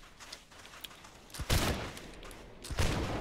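A musket volley in the video game Holdfast fires on command, a rolling crackle of many muskets going off together in two loud bursts over a quieter background.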